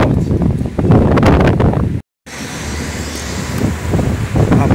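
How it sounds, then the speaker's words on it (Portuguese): Strong wind buffets an outdoor microphone on a street in Aracaju, a loud continuous rumble with gusts, broken by a brief dropout midway, with traffic faintly underneath. "O vento está muito forte."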